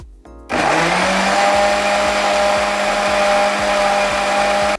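After a brief quiet start, an electric blender switches on and runs with a steady, loud, high-pitched motor whine while whipping a homemade olive-oil hair cream for children, and no one speaks over it.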